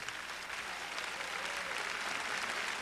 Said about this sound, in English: they deserve a big round of applause